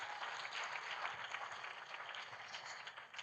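Faint, distant applause from the audience at a university convocation lecture, a soft continuous wash of clapping in a large hall.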